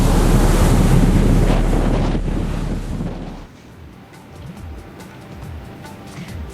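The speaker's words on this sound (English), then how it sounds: "The sea is rougher. You can know that something is going on in that magnificent sea behind me." Rough sea on India's eastern coast during a cyclone: heavy surf crashes loudly at first under strong wind buffeting, then the roar drops to a steadier wash of breaking waves and gusts.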